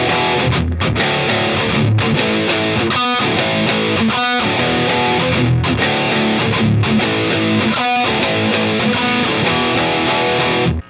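A full chorus of a Korean song on guitar, strummed and picked chords in a continuous, loud, close rhythm with short gaps between phrases and no voices.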